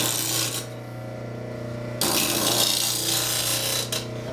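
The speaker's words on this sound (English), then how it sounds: "I'm going to rotate it like this on the wheel, and at the same time move it like that to create the fingernail shape" A woodturning gouge is ground to a fingernail shape against a spinning grinding wheel, giving a steady motor hum with a harsh, bright rasp of steel on stone that swells and eases as the tool is rotated and moved.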